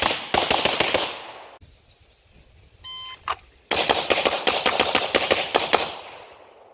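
Rapid strings of pistol shots from a Shadow Systems MR918 Elite on a shooting range, loud sharp cracks in quick bursts, split by a brief pause with electronic timer beeps before another fast volley.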